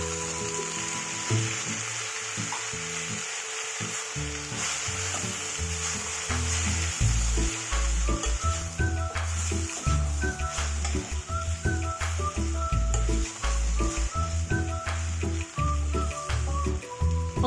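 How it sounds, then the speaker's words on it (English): Boiled red cow peas and drumstick leaves stir frying in a pan give a steady, close sizzle, with scraping and stirring clatter running throughout and no voices. "After stir frying leaves for 5 minutes, I'm adding them now and cook for 2 more minutes."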